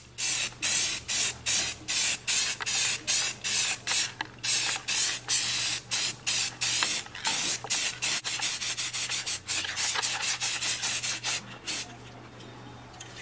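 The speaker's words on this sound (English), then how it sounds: "I went ahead and sprayed this with 1 light coat of the black high temperature paint" Black high-temperature spray paint hisses from an aerosol can onto a hood exit plate in a garage, in roughly a dozen short, even bursts followed by a longer continuous spray, close and loud.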